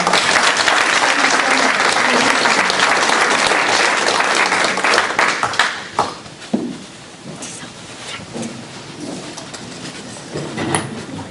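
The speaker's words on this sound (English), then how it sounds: "Let's give all of them a round of applause." An audience at a school board meeting applauds a group of elementary students, loud, dense clapping for about six seconds that thins into scattered claps and faint room noise.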